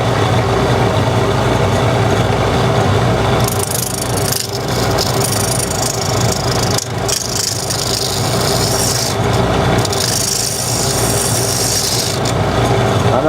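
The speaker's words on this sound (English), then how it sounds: "I'm just smoothing out the irregularities and getting an idea of what my blank is going to look like." Steady, continuous rasping and rubbing of a tool against a glued-up wooden chalice blank as its surface irregularities are smoothed, loud and close, with a brighter, harsher scraping stretch in the middle.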